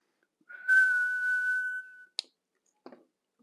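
A single steady whistle sounds into the microphone of a Xiegu X6100 transceiver, held for about a second and a half, followed by two faint clicks in near silence.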